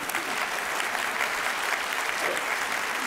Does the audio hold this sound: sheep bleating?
no